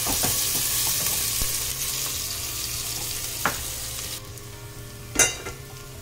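Onion frying in hot oil in a pan with bay leaf and whole spices for mutton paya (goat leg) soup; a steady, loud sizzle runs throughout, with a couple of brief clinks of a spoon, and nobody speaks.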